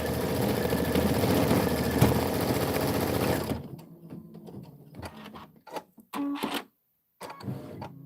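An embroidery machine stitching a Kimberbell Home Sewn April tiling scene tile: steady, loud mechanical whirring that stops partway, followed by quieter clicks, short motor bursts and brief mechanical noises.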